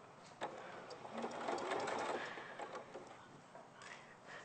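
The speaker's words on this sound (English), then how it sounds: "we're going to sew all the way around the outside" A sewing machine stitching around the outside of fabric squares, its steady fast mechanical whir running throughout at close range, with brief ticks and clunks and no speech over it.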